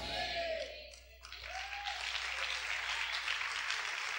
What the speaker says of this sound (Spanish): Vamos a aplaudir fuerte al Señor en esta hora.